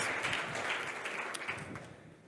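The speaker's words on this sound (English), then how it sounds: "Round of applause, please." An audience at a health tech startup pitch event gives a brief round of applause, a dense patter of clapping that fades slightly toward the end.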